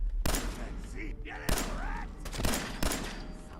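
Gunfire in the Fallout 4 game with the Sim Settlements 2 mod: a few sharp shots spaced apart with short bursts between, close and loud, mixed with game sounds and a voice.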